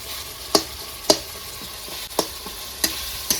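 Raw mango and tomato frying in a pan, with a spatula scraping and stirring in five or six sharp strokes over a steady background sizzle.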